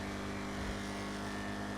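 Steady drone of the Vapid Dominator GT muscle car's engine and exhaust in GTA Online, a constant, loud rumble with layered harmonics holding at even revs, close and alone without talk.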